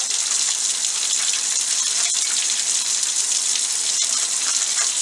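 Steady hissing rush of water running from a tap, constant and close, with a couple of faint clicks; no voices.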